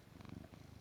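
A cat purrs close by in a steady, low rumbling rhythm, faint and soft, with no talking.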